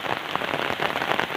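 Heavy rain pours steadily on surfaces in a village, a dense, continuous hiss with scattered nearby drips and splashes, loud and unbroken with no voices.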